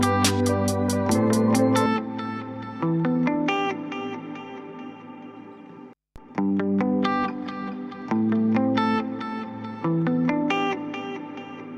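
Electric guitar run through a Tone Forge plugin, played as rhythmic chugging riffs with bright muted attacks and distorted sustained chords, loud and close, with a short break midway and no voices.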